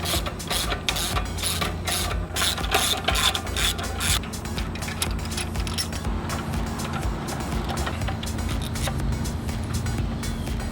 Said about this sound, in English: The next order of business is to go ahead and remove the carburetor.